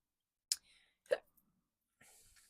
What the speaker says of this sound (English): Get my hiccups.